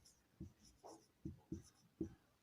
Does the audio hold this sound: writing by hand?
yes